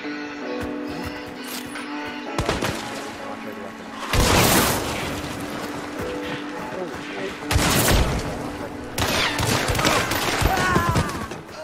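Nitro rifle shots in the video game Hunt: Showdown, two loud booming blasts a few seconds apart, with game music and ambience around them and some voices over the top.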